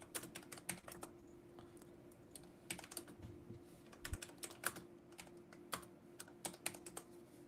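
Computer keyboard typing during a live options-trading stream, with irregular bursts of quick keystrokes, close and fairly quiet over a low steady hum.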